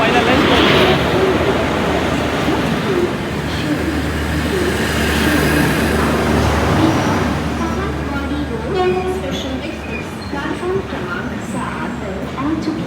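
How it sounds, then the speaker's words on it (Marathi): A passenger train to Ratnagiri rumbles into the station with a loud, steady roar that slowly eases, while voices talk over the noise of a busy platform. "मला गाडी आलेली आहे बरोबर सात वाजता ट्रेन भेटलेली आहे"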